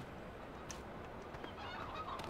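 Chickens clucking from an open coop on a farm in the game Farming Simulator 2015; the faint fowl sounds sit low under a steady, hissing background noise, with no talking.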